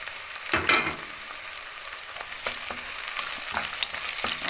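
Peppers sizzle and fry in a pan for shrimp soup, a steady close crackle with a few scraping stirs of a utensil.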